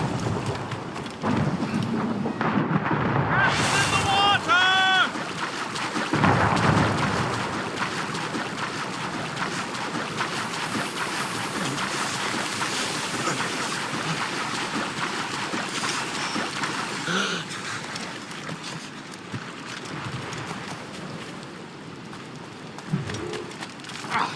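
Sailing ship under way at sea in Assassin's Creed Rogue, with steady wind and waves washing along the hull, a continuous loud sea-and-rigging wash throughout and a brief bright chime-like cue early on.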